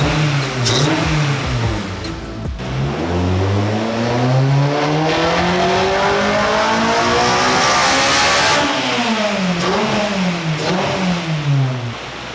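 Acura RSX VTEC four-cylinder screaming up to 9,000 RPM on a dyno, a loud sustained wide-open-throttle sweep climbing in pitch, easing off and pulling again near the end.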